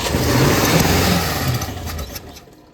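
A 1972 Ford F-100 engine runs loud and close, rumbling with a slight rise and fall in revs before fading down over a couple of seconds.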